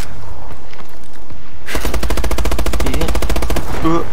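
Rapid automatic gunfire from Call of Duty Advanced Warfare bursts in after a quiet opening, a loud, steady stream of closely spaced shots lasting about two seconds, followed by brief tail noise.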